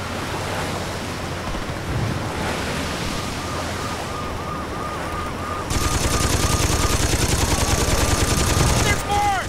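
Sustained bursts of automatic gunfire from the video game Saints Row 2, rapid crackling shots running almost throughout, louder and denser in the second half, with wind-like whooshing underneath and a brief whistling tone near the end.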